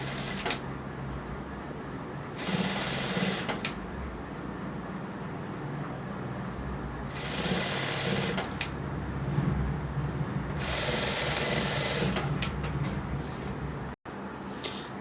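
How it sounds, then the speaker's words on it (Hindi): Sewing machine stitching along the base of a kurti neck in a tailoring shop, several bursts of steady whirring separated by pauses, close and fairly loud over a low room hum. "अब इसकी जड़ में सिलाई मारेंगे।"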